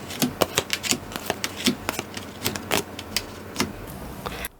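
Tarot cards being shuffled and drawn, a quick series of crisp close snaps and flicks in an uneven rhythm, over faint background hum with no talking.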